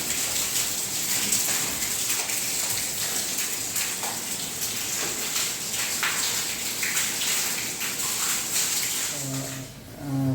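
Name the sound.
heavy rain falling outside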